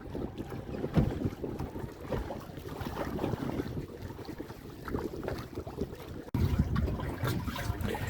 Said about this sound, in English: the Torpedo is pushing us along nicely into this kind of 15 mile per hour wind